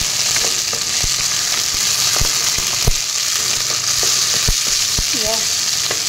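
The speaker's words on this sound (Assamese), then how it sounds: "বিলাহীখিনি অলপ পিঁয়াজেৰে সৈতে অলপ ভাজি ল'ম" Tomatoes and onions sizzle steadily in a hot pan, with occasional sharp pops and a faint voice murmuring once in the background.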